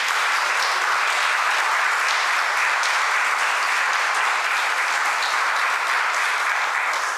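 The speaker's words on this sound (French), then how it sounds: "On peut l'applaudir." Dense, steady applause from a graduation ceremony audience fills the room, sustained and even throughout with no gaps.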